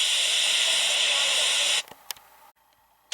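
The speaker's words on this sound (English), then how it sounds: "He just let off steam" A steam locomotive lets off a loud, continuous hiss of steam that cuts off abruptly partway through, followed by a few faint clicks and near silence.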